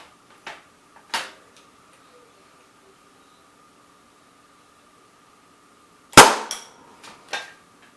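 A Remington 455A Power Mate powder-actuated tool drives a pin into thick steel with one sharp, loud bang and a short ringing tail, preceded by a few faint clicks and followed by lighter handling knocks.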